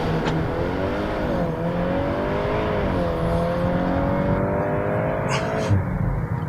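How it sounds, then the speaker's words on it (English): A VW Golf R20 launch-control start: the engine revs hard and climbs steadily in pitch through the gears, loud and close, with a brief shift break near the end and no talk. "Left foot hard on the brake, right on the accelerator, launch control active,"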